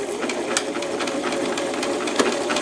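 Sewing machine stitching fabric, a fast, even mechanical clatter of needle strokes running continuously and close at steady speed, with no talking over it.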